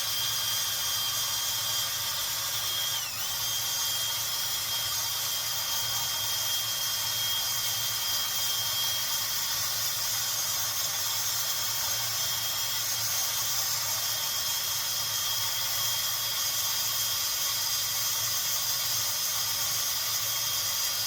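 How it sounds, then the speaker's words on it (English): Power drill working varnished fuel deposits off a Mikuni 34 carburetor part from a Virago 535, a continuous high hiss and whine that holds steady and loud for about twenty seconds with no voices. "I'm gonna use my super duper drill"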